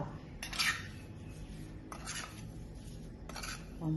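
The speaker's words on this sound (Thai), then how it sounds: "แล้วก็คนให้เข้ากัน" Thai pork larb with shallots, culantro and toasted rice is mixed in a bowl, with three quiet scraping, clinking strokes of a utensil over a soft background hiss.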